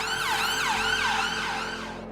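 Ambulance sirens wail at the London Bridge attack scene, a loud close siren with rising and falling sweeps over a steady traffic rumble.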